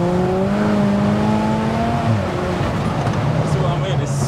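A 515 bhp big turbo MK5 Golf GTI with 200K miles accelerates hard on back roads, its engine note a loud, close, rising drone with climbing harmonics, then settling under a steady roar while people talk inside.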